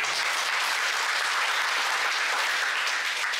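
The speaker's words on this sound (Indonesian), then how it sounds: "Tepuk tangan dulu." Thick, continuous applause from a congregation at a Sunday worship service held in a prison, a loud, even roar of many hands clapping without a break.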